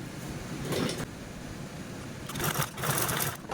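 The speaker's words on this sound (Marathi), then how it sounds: "अशा पद्धतीने स्टिच करून घ्यायची" A sewing machine stitches velcro onto saree lace, a close, moderately quiet mechanical whir with rapid stitching rhythm that speeds up in short bursts around one second and again near the end.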